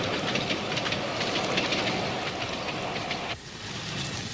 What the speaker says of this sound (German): Einfahrt in den Bahnhof von Moritzburg, Landkreis Dresden.